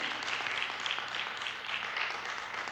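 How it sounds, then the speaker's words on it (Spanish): Congregation applauding during a church Bible study service, a steady wash of many hands clapping together with no talk over it. "dale un fuerte aplauso al Señor"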